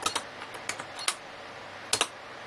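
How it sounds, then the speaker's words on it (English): Scattered key presses on a Brother BP-30 typewriter plotter as numbers are typed in, a few isolated clicks and quick pairs, faint and close, with no talking. "type some numbers in"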